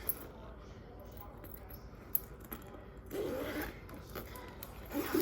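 A zipper on a newly unboxed Amazon backpack rasps open in short, close strokes. Small rustles and clicks of handling come before it. The zipping grows louder toward the end.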